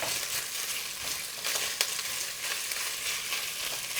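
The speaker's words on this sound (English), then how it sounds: "as this cooks, you just want to take a spatula and break it up" Sausage fries in a cast iron Dutch oven while a spatula breaks it up, a steady crackling sizzle broken by short scraping strokes, close and moderately loud.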